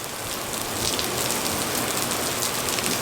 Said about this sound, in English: Take a moment to enjoy the rain.